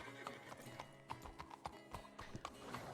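Horse hooves clip-clop at a steady walking rhythm in the RedM video game, a quiet run of regular hollow knocks.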